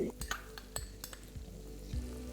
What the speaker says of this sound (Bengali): তেলটা গরম হয়ে গেলে আমি এখানে দিয়ে দেবো 1 চা চামচ রসুন কুচি, তারই সাথে যাবে 1/2 চা চামচ আদা কুচি